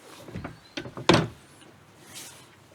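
A wooden door swinging open at the Vällamäe forest cabin, a rental house in the woods, with a few soft handling knocks before one louder creak-and-thud near the microphone, then quiet room tone.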